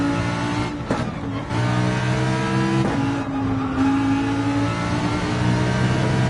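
A race car engine held at full throttle in Gran Turismo 7 gives a loud, steady, buzzing drone whose pitch rises and shifts through gear changes, with a brief dip near the start and again around three seconds.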